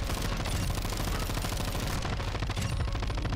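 A Rap H light machine gun in a video game fires in one loud, unbroken burst of rapid shots that rattle on for the whole stretch.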